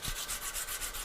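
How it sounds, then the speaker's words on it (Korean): Sandpaper rubs back and forth on a small wooden cutting board in quick, even strokes, a close, raspy swishing repeated about eight times in a second. "사포를 열심히 하고"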